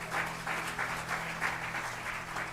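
Church congregation applauding during a sermon, steady dense clapping from many hands throughout, moderately loud with a faint low hum underneath.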